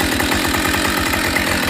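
A Husqvarna chainsaw runs steadily at a loud, close, even idle-like throb with a rapid rhythmic engine pulse and no voices.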